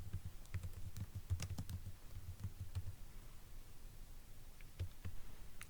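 Keys clack on a computer keyboard while typing titles into a spreadsheet, coming in quick soft bursts of clicks, then sparser taps and a pause, heard up close and alone in a quiet room.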